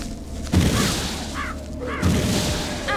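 In the video game ELEX, two heavy booming shots ring out about a second and a half apart at a creature, with chirpy game effects in between, loud and close.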